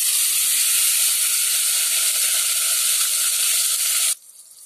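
Blended paste of two medium onions dropped into hot oil for an egg korma, giving a loud, steady hiss and sizzle that cuts off abruptly near the end.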